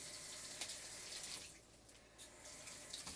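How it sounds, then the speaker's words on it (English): Fresh basil rinsed under a running kitchen tap, a steady close hiss of flowing water splashing into the sink, briefly shifting tone as the leaves pass through the stream. "I never know whether to wash it, and I will just give it a quick rinse"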